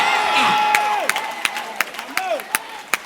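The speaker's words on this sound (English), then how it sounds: "The one who is clapping his hands." A church congregation in Ghana claps in sharp, regular beats while voices cheer and shout over a steady crowd murmur throughout.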